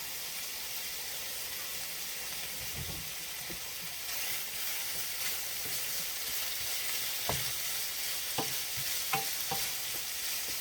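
Peppers for a cheesesteak stirred in a hot frying pan, a steady close sizzle with occasional scraping clicks of the utensil against the pan.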